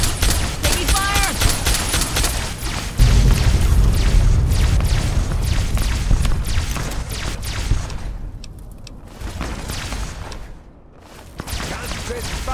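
Dense battle fire in Fallout 3, with overlapping automatic bursts and heavy booms, loud and sustained, with a brief lull near the end before firing resumes, mixed with voices.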